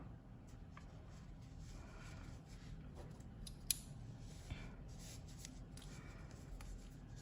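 Scissors snip through sock fabric while a small handmade doll is being shaped, giving light, close crisp cuts and rustling handling noises over a soft steady background, with no talking.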